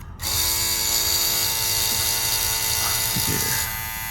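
A Manscaped Beard Hedger beard trimmer switched on with its comb extended away from the blade gives a steady, close, buzzing rattle that holds for about four seconds and then eases slightly.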